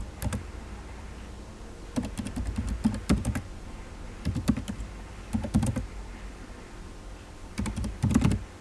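Computer keyboard keys clack in quick bursts of typing separated by short pauses, close and clear in a quiet room, while text is entered in Microsoft Word.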